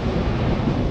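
A steady, low whooshing rumble from directly beneath a wind turbine in Tasmania, with wind buffeting the microphone throughout.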